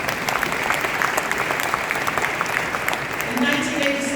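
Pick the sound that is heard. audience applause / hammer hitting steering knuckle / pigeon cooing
audience applause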